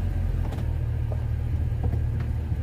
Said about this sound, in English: She has an exhaust leak.